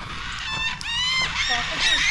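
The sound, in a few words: cockatoos calling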